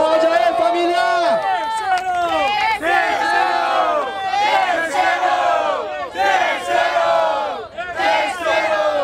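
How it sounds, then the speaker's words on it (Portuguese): A crowd at a freestyle rap battle in Barueri, São Paulo, shouts and cheers in loud repeated waves of many overlapping voices, rising and falling in bursts across the whole stretch. "Barulho pro Rod aí, família!"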